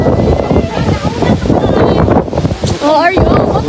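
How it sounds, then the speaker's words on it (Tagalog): Strong outdoor wind in Chicago buffets the microphone with loud, gusty low roaring that swells and dips, while a person talks over it. "Lakas pa rin ng hangin dyan dito sa Chicago."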